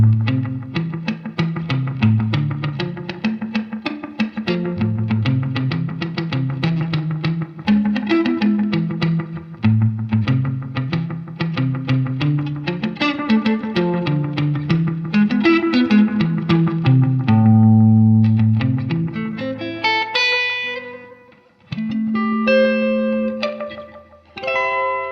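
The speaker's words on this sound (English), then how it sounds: "now you're getting into almost tape delay," A vintage Boss DM-3 analog delay pedal repeats guitar notes in dense, musical echoes that build into swirling, tape-like oscillations, loud and sustained, with a final stretch of ringing, pitch-shifting repeats.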